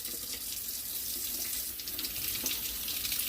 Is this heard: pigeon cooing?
no